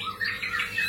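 A white-rumped shama, a 22 cm-tailed contest songbird, gives a quick run of bright, squawky chirps, close and clear, in a short burst.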